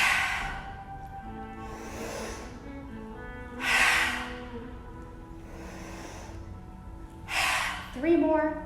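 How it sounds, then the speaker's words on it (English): During a gentle yoga stretch, several loud, breathy inhales and exhales rise and fall in a slow rhythm, close to the mic, with a voice heard in between. "I want to hear your breath."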